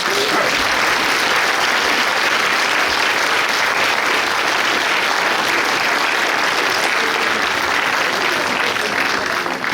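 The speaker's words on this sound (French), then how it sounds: "Ils méritent tous vos applaudissements" A hall audience gives sustained, steady applause for medal recipients at a mayor's New Year ceremony, a dense even roar of clapping with no break.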